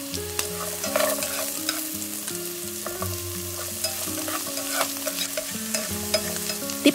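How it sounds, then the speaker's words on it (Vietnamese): Chinese sausage and carrot stir-fried with garlic in hot oil in a pan, with a constant close sizzle and the repeated scrape and clack of a spatula stirring against the metal. "Sau đó cho lạp xưởng và cà rốt vào."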